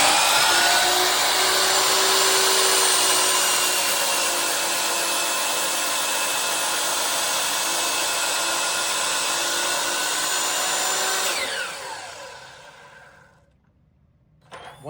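Compound miter saw blade spinning up and cutting through material, a loud sustained whining roar for about eleven seconds before winding down and falling quiet, ending with a faint knock.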